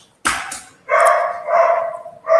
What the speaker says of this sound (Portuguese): O barulho está muito alto aqui do cachorro?